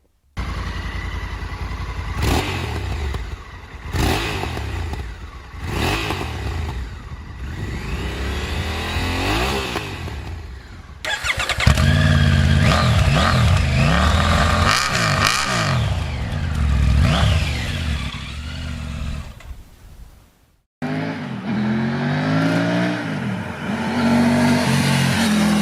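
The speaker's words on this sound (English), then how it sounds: "let's also compare the engine sounds of both, and you can once again decide which one you think sounds better" Engines of a Honda Africa Twin and a 3-cylinder Triumph Tiger 900 motorcycle, idling and revving in turn, with repeated throttle blips, sustained revs and a short cut between the two bikes.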